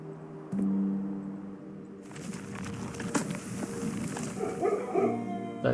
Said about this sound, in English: why did I just hear the dogs barking?